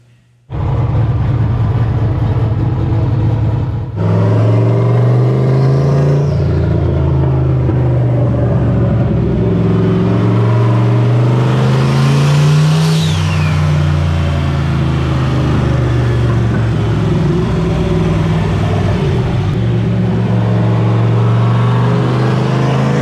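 Turbocharged 363 V8 in a Foxbody Mustang on a dyno, a loud close engine note that idles, then climbs through rising revving pulls, drops back and climbs again, with turbo whistle over a continuous heavy rumble and no talk.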